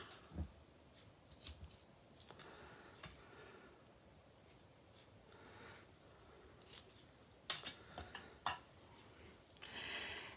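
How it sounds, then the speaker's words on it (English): Scissors snip through ribbons on a card-making desk, a handful of quiet, irregular crisp cuts with a louder cluster of snips near the end, close by and with no one talking. "We'll trim our ribbons."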